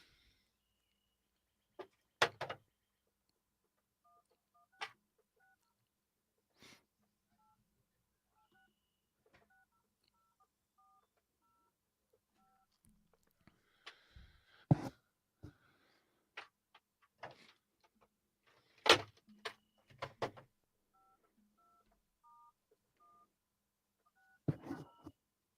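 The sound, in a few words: telephone number being dialed, DTMF tones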